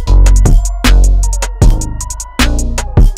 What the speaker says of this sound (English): the chord progression and that top melody that we got from AudioCipher and the drums